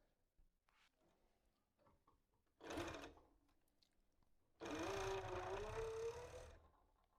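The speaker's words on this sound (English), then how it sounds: "voy a coser con overlock costados" An overlock serger stitches the side seams of reversible bikini bottoms in two bursts, a short whir and then a longer, steadier run of motor hum, close up in a quiet room.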